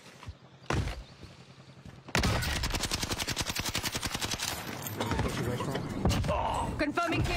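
Rapid automatic gunfire in a shooter video game, a long dense burst of evenly spaced shots after a couple of isolated single shots, loud and close, with a voice talking over parts of it.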